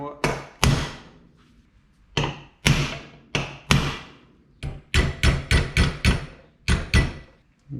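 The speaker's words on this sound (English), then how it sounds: "Using the old cold chisel just to kind of sharpen up this fold a bit" A hammer strikes a cold chisel to sharpen the fold on a brake line, about fourteen sharp metallic whacks, some single and some in quick bursts, each ringing briefly before the next.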